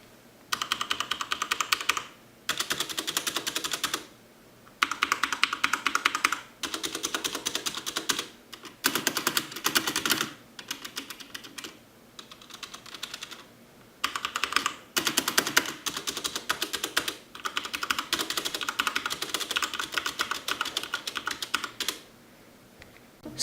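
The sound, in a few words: Corsair K95 RGB Platinum keyboard typing, rattly spacebar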